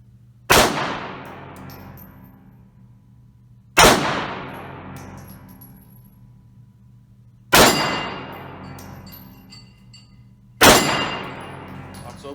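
Four sharp, loud pistol shots from a Bersa Thunder 380 Plus, spaced a few seconds apart, each ringing out with a decaying tail in an otherwise quiet setting.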